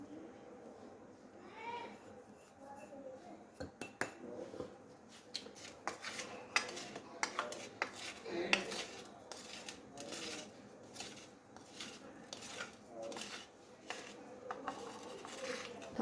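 Spices being coarsely pounded for pickle, with irregular clacking and scraping of a pestle or utensil in a kitchen, fairly faint and continuous for the whole stretch.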